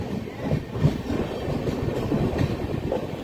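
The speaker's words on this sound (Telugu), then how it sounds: "సో నాయుడుపేట నుండి అయితే మన ట్రైన్ అయితే బయలుదేరిపోయింది" A Pinakini Express with new coaches pulls away from Naidupeta on the Chennai Central to Vijayawada run, its carriages rumbling and clattering in a steady, moderately loud roll heard from inside.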